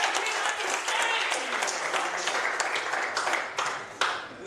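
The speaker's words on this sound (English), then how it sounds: "We like to clap." A church congregation applauds during an Easter service at Restoration Chapel, steady dense clapping with a few sharper individual claps near the end, fairly close and continuous.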